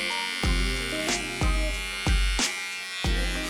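A Panasonic cordless hair clipper buzzing steadily while cutting hair, with a low motor drone and several brief sharp snips recurring roughly once a second, close up.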